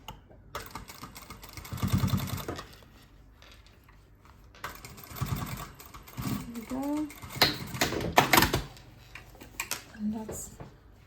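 A sewing machine top stitching a quilted makeup bag runs in short bursts of rapid mechanical whirring, separated by pauses, with a person talking over and between the stitching runs.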